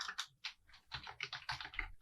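Quick, uneven bursts of keystrokes clatter on a computer keyboard as text is typed, close and clear with brief pauses between runs and no voices.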